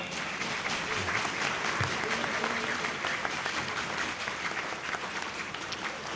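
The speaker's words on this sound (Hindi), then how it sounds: "आपकी भरपूर तालियां" Audience applause at the opening ceremony of a fried-food shop, steady dense clapping sustained throughout, with a faint murmur of voices beneath.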